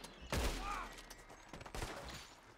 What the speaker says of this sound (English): It was sawed-off shotgun.